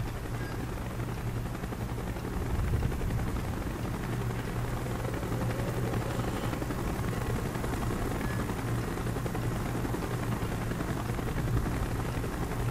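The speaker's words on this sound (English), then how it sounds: "Chopper's inbound." A helicopter approaches in Call of Duty: Black Ops, a steady, loud rotor drone with low thudding that holds throughout the clip, mixed with a dense wash of battlefield noise.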